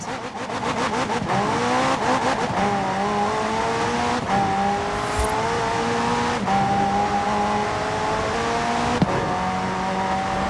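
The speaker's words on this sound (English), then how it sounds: "The car's blistering performance is delivered by a twin-turbo V8, supplemented by a McLaren ECU electric motor and instant power assist system." A McLaren twin-turbo V8 hybrid car in Forza Horizon 4 drives hard, its engine revving up through rising gear pulls with shifts and brief tire squeal, loud and continuous.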